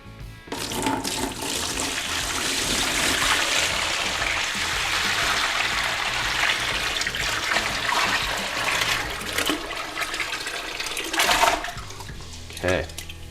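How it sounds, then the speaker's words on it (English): Turkey brine poured from a container into a food-safe bin, a loud continuous gushing and splashing stream lasting many seconds, close up, with a few brief bumps near the end. "We're gonna pour this into this food-friendly container"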